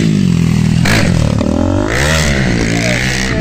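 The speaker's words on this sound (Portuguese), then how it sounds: "Brinca o cara de moto lá." A motocross motorcycle rides close by, its engine loud and revving, rising and falling in pitch as it accelerates, with scraping and clattering over the whole stretch.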